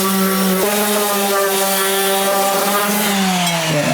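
A power tool sanding a part for a Mini Cooper race car with 60-grit abrasive, giving a loud, continuous motor whine with steady harmonics that dip briefly and shift pitch under load, with no talk.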